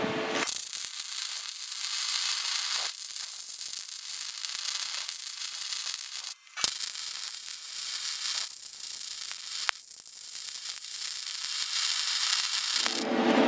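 Flux-core MIG welding with self-shielded wire on a Weldpro MIG200GD, a steady close crackling hiss that runs almost unbroken, with two brief dropouts where the arc stops and restarts.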